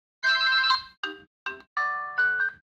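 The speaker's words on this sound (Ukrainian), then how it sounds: "Вибір мелодії на будильник." A smartwatch alarm ringtone, a bright electronic melody in short tonal bursts, a long phrase followed by quick notes, clear and alone with no talking.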